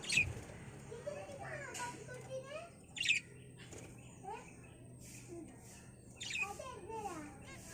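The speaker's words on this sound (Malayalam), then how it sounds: "ഇത് ലവ് ബേർഡ്സ് ആണ് കേട്ടോ" Short high chirps and squeaky calls from lovebirds, coming in bursts over a low steady background hum.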